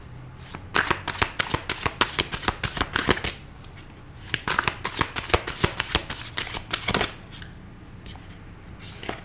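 Tarot cards being shuffled in rapid riffling bursts, close and crisp, in two long runs separated by a brief pause, with a few scattered flicks afterward; no talking.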